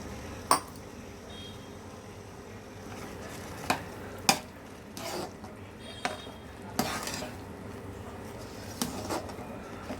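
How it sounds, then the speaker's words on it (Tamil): Rava upma is stirred in a pot after milk is poured in, a quiet background simmer broken by sharp intermittent scrapes and clinks of a spoon against the pan. "இதையும் ஊற்றி நல்லா மிக்ஸ் பண்ணி கிண்டி விட்டுறலாம்."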